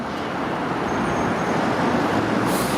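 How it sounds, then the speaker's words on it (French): Steady roadway traffic on a hilly Tokyo street in Nagatachō and Akasaka, with taxis and trucks passing, forms a dense, continuous engine and tyre roar with a brief hiss toward the end. "la circulation avec pas mal de taxis et de camions aussi"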